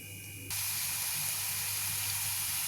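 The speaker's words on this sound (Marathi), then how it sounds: "आता आपण अळूवडी भाजून घेऊ" Colocasia-leaf alu vadi rolls shallow-frying in a pan, with an abrupt burst of sizzle that holds as a loud, even hiss close by, with no voices.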